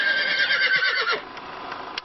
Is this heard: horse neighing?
yes